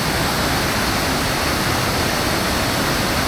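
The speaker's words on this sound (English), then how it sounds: "first view of this waterfall." A waterfall on a hike in Thailand gives a loud, steady broadband rush of falling water, alone and unbroken throughout.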